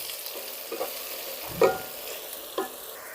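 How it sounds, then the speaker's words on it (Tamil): Tomatoes and chili powder stir in a pan for chicken biryani, with a soft low sizzle and a few spoon scrapes and taps, nearby and without speech. "தக்காளி சேர்த்துட்டு மிளகாத்தூள் சேர்த்துக்கலாம். கிளறிக்கலாம்."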